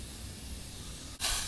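A handheld pressurized steam cleaner hisses steadily as it steams wrinkles out of a shirt, then gives a sudden stronger, brighter blast of spray near the end.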